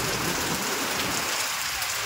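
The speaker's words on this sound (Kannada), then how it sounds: "ಅಯ್ಯೋ ಜೋರ್ ಮಳೆ ಬಂತು." Heavy rain pours down steadily and loudly at an outdoor village festival gathering, a dense unbroken roar of drops hitting surfaces close by, with no voices.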